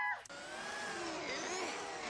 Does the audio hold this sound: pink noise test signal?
no